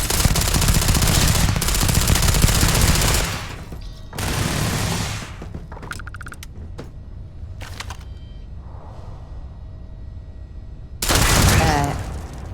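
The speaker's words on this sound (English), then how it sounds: "Are you shooting at flies now?" Rapid bursts of sci-fi gunfire crackle in dense volleys for several seconds, then a shorter burst, sparse clicks and mechanical ticks, and a final loud volley near the end.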